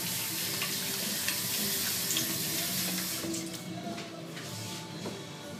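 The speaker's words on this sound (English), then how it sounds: "Wash your hands." A tap runs steadily into a sink while hands are washed beneath it, a close, continuous splashing hiss that eases slightly toward the end.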